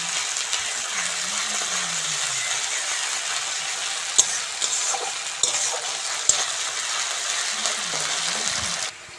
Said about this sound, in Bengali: পেঁয়াজটা ভালো করে ভেজে নিয়েছি। এবার আদা রসুন বাটাটা দিয়ে দেবো।